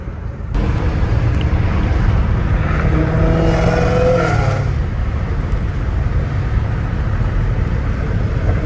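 Deep, steady exhaust rumble from a Dodge Challenger Hellcat Redeye in Los Angeles, loud and continuous with a rising, wavering tone in the middle, no talking.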